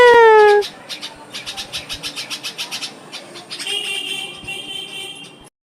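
Bulbul chicks calling at a nest near a house: a loud opening whistle fades into a rapid run of close, bright, repeated chirps, then a steadier high twittering chorus.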